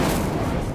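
Incendio fire spell cast in the Hogwarts Legacy video game: a short, loud, roaring whoosh of flame with rumbling low boom, steady and close throughout.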